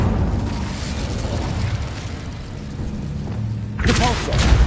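A fire spell cast in Hogwarts Legacy gives a low rumbling burst of flame that swells toward the end of the clip, over steady game ambience and a voice calling out.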